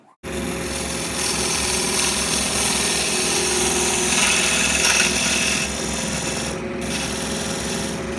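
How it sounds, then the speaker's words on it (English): A spear scraper shaving a wooden bottle stopper turned from glued pencils on a lathe, a steady close rasping scrape over the spinning workpiece's hum, briefly easing near the end. "using this spear scraper, I'll put a sharper, more defined profile on the bottom of the bottle stopper"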